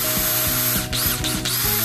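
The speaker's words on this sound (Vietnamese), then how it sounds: "Tiếp theo là con khoan." Bosch GSB18V-535C cordless drill running at speed, a close, steady motor whine with a few brief rhythmic pulses of load change, heard alone.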